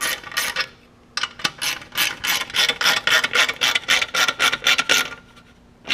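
Tightening an M6 bolt on a Triumph Bobber motorcycle exhaust produces a fast, loud run of ratchet clicks in quick bursts, close to the microphone and with no talking.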